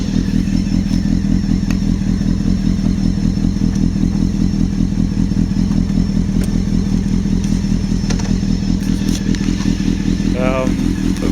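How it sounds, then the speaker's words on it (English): A Honda CBR600 fitted with a Devil exhaust idles steadily up close, a deep even pulsing throughout, with brief clatter and scraping as the bike is heaved onto its centre stand. "while we're waiting for that to warm up, I'll pop it up on its centre stand."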